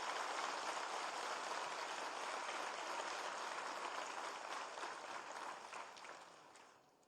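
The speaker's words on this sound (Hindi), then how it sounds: "एक बार जोरदार तालियों से आप उनका स्वागत करें।" Faint, distant applause from a seminar audience, a dense steady patter that gradually fades out toward the end.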